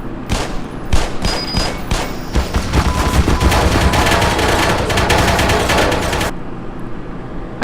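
Automated turrets in the game Black Mesa fire rapid bursts of gunfire, starting as scattered sharp shots and building into a loud, sustained fusillade that cuts off abruptly near the end.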